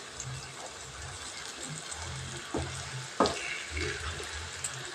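Boiled eggs frying in oil in a pan with a steady close sizzle, stirred now and then with a few sharp scrapes and clicks of the spatula, with no talking.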